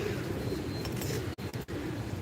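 Pigeons in sunny outdoor surroundings coo in a dense, continuous low murmur, fairly close and steady throughout, with a few brief dropouts and faint rustling.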